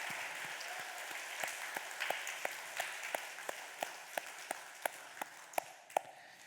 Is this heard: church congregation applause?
yes